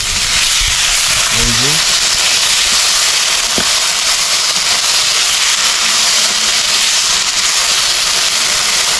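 Bombay duck fish (loitta) cooking in a pan in a home kitchen, giving a loud, steady hiss and sizzle that fills the whole stretch, with a brief voice near the start.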